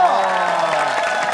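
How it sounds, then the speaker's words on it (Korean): Studio audience of a Korean TV variety show applauding a couple on stage, a dense steady wash of clapping with some crowd noise lasting about a second. "박수 부탁드리겠습니다"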